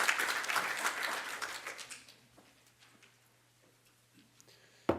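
Audience applause welcoming art speaker Luke Smythe at a morning talk on Gerhard Richter, a dense burst of clapping that fades out over about two seconds, leaving a quiet room with faint rustles and a sharp tap at the end.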